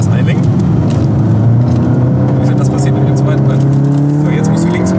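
A Golf 7R drives a lap on a race track, its engine droning loudly and steadily with rising revs under acceleration, heard from inside while someone speaks over it.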